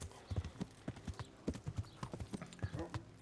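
Horse hooves clip-clop in a steady walking rhythm in the video game Kingdom Come: Deliverance, close and clear, over a quiet background.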